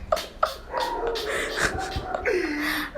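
A dog whimpers and yips in quick, close, high-pitched cries, two sharp yips at the start followed by drawn-out whines, with other household noise faintly underneath.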